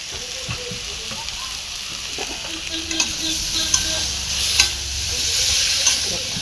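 Potatoes and pointed gourd sauté with spices and Kashmiri chili powder, a continuous close sizzle under repeated spatula scrapes and clinks against the pan, growing busier toward the end.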